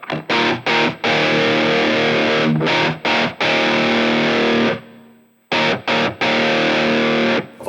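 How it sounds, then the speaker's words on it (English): Distorted electric guitar chords, thick and doubled with a wide delay, played in choppy bursts separated by short gaps, with a sustained ringing chord fading out midway. "there's a dual digital delay, which acts as a sort of stereo doubler for this thing"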